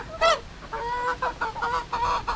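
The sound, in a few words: pullets (young hens) at a poultry farm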